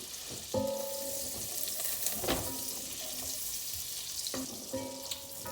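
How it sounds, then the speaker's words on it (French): Butter sizzles softly as it melts and browns in a frying pan, a quiet steady crackle broken by a few clinks and scrapes of a utensil, with no voices. "On attend que le beurre brunisse un petit peu."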